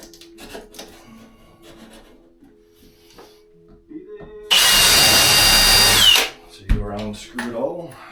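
Power drill driving screws into a shower base during installation, one loud sustained whirring burst of about a second and a half, with quiet handling noises before and after.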